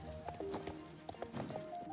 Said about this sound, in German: ich reite mit meinem wunderbaren Pferd dorthin